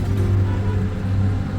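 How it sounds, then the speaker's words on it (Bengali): Road traffic sits in a jam near Ghum on the way to Darjeeling, a steady low engine rumble with no distinct horns or talking. "ঘুম পেরিয়ে একটু এগোতেই আটকা পড়লাম ট্রাফিক জ্যামে।"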